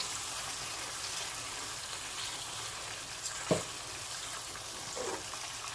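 Masala sizzles steadily in oil for butter chicken, a continuous close frying hiss with one sharp stirring clack midway and a softer one near the end.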